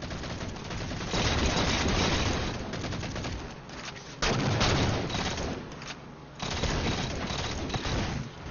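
Heavy gunfire in a Halo 4 Big Team Slayer multiplayer match, with dense loud bursts of shots and booms filling the whole stretch, breaking off briefly twice before resuming.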